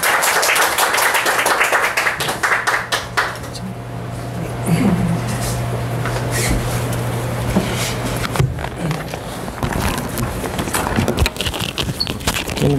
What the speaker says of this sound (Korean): 우레와 같은 박수로